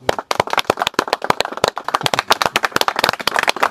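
An audience applauds to congratulate a dairy farmer on his renovated cattle shed: dense, brisk, close clapping from many hands in an even burst, with no voices over it.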